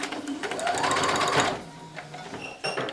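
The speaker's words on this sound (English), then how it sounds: "put it at a 1/2 inch, and just sew over it." A sewing machine stitches elastic along the edge of a fabric face mask, its motor whirring in a fast, even run of needle strokes, slowing and pausing briefly before starting up again.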